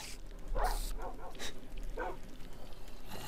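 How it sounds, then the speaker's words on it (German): Dogs in the Minecraft video game yip and whimper in short repeated bursts, fairly close, heard under a low bed of game sound with no one speaking. "Und die Monster werden von Hunden aufgefressen."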